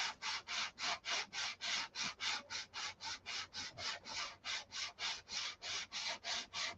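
Rubber sanding sticks rub across the paint of a Viper car in steady, evenly paced back-and-forth strokes, about three per second, close and fairly loud with no talking.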